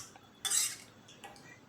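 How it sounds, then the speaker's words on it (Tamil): A metal spoon scrapes and clinks against a cooking pot while lentils are stirred into a vegetable curry, one sharp clatter followed by a softer scrape, fairly faint and close with no talking. "நல்லா கலந்து விட்டுக்கோங்க."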